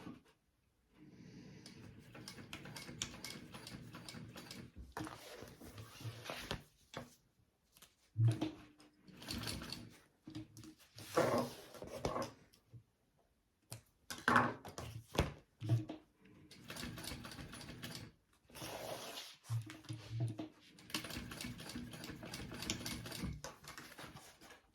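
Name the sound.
sewing machine sewing a tote bag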